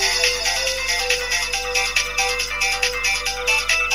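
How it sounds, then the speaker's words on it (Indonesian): A mobile phone rings loudly with a bright electronic ringtone, a fast repeating melodic pattern that fills the whole stretch with no voices over it. "Saat itu juga terdengar suara dering HP yang cukup keras."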